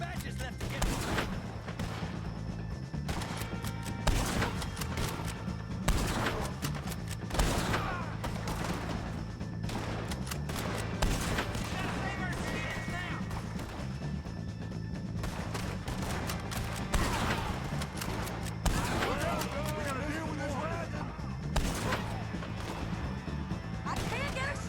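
Gunfire in a Red Dead Redemption 2 shootout with O'Driscolls, scattered shots and impacts cracking at intervals over a steady background, with frequent shouting voices.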